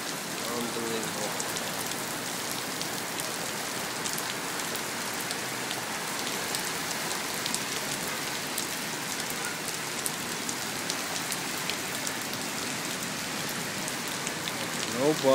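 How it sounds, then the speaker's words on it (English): Heavy rain pouring onto a New York City street, a dense steady hiss of drops splashing on pavement, loud and continuous throughout with no break. "Because with this crazy rain,"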